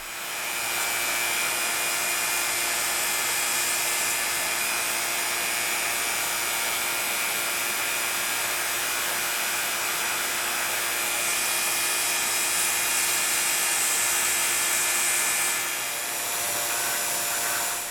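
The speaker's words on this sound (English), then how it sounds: "that's the air rushing back into the chamber" Air hisses steadily back into a vacuum chamber through a bleeder valve, a continuous broadband rush that swells slightly louder near the end before easing off.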